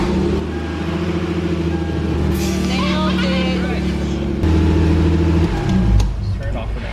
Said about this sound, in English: So technically the car should start with the manual ECU.